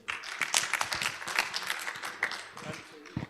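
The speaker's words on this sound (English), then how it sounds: "Clap for the Lord." A gathering of members claps after a closing prayer. The applause is scattered and moderately close, with voices mixed in and the clapping thinning toward the end.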